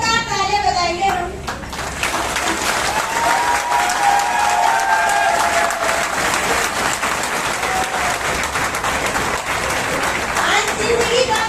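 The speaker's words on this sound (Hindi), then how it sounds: "एक बार गुरु जी को जोरदार तालियां बजाएंगे हम।" A large seated crowd at an indoor training event breaks into loud, sustained applause after a brief moment of a voice, the dense clapping continuing strongly for over ten seconds before tapering.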